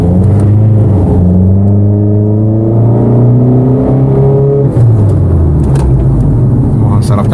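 A remapped Mitsubishi Triton engine with new intercooler piping revs hard on a dyno, its loud droning tone climbing steadily in pitch for several seconds before dropping off sharply, then idling roughly, very close and dominant.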